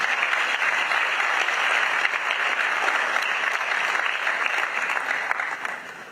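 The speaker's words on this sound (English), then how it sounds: "Please, if you want to applaud him, he deserves it." Steady, dense applause from an audience at a university alumni trust fund launch, honouring the fund's chairman, sustained at an even level for several seconds before starting to taper off.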